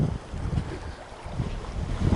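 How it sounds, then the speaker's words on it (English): A sailboat moving slowly at 3 knots on flat seas, with steady low rumbling wind buffeting the microphone and soft water wash around the hull. "And so I'm just sailing just 3 knots on flat seas."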